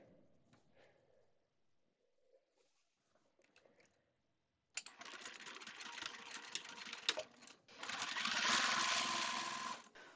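A sewing machine runs a steady, close whir as it stitches fabric facing strips onto the edge of a quilt. The sound starts after a few seconds of quiet handling noises and grows louder toward the end.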